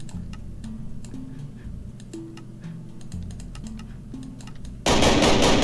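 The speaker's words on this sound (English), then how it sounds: "AK-105. It is loud as hell, and I cannot change sound." An AK-105 assault rifle in a Minecraft gun mod fires a sudden loud, dense burst near the end, preceded by scattered light game clicks and ticks.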